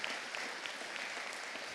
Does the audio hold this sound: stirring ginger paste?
no